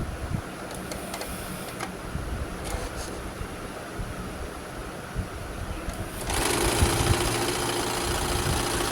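Sewing machine stitching a meter of sheer organza fabric for a scrunchie, a steady mechanical whir running throughout and growing louder and denser near the end, with no talking.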